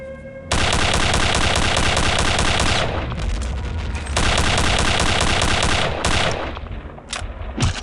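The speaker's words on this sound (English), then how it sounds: "Every weapon in the game is shooting at me" Machine gun fire in the shooter game Return to Castle Wolfenstein, loud sustained bursts of rapid automatic shots with a brief lull in the middle, then a few scattered shots at the end.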